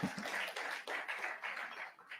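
A dinner audience at a political event applauds: steady, moderately distant clapping from many hands that continues throughout.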